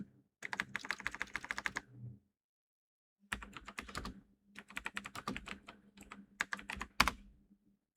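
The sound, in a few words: typing a prompt on a computer keyboard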